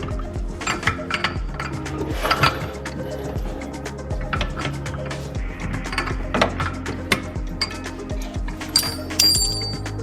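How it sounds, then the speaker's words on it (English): A wrench fights a Loctite-secured nut on a BMW E90 during a differential swap, giving close, repeated metallic clinks and ratcheting clatter with short pauses between strokes. "The reason it doesn't just come loose is there's Loctite built onto that nut. So you kind of got to fight the Loctite the whole way out."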